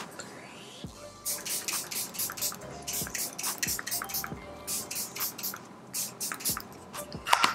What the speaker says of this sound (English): to set the face and lock it in, I'm going to use the Charlotte Tilbury Airbrush Flawless Setting Spray.